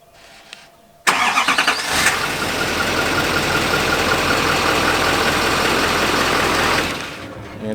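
A GM truck engine cranks and catches after a key-fob remote start, following a faint beep; it settles into a steady, loud mid-pitched idle that runs for several seconds before easing off near the end.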